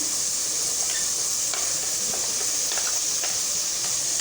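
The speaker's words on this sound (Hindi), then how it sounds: "सारे मसालों को हम अच्छी तरीके से भूनेंगे।" Ground turmeric, garam masala and coriander fry in a pan, giving a loud, even hiss of sizzling with a few soft scrapes of stirring close by.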